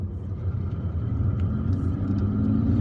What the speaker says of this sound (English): we're driving back to central Algiers